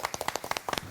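A television studio audience claps briefly to welcome the armless painter Seok Chang-ho onto a talk show, a quick burst of separate close hand claps lasting about a second.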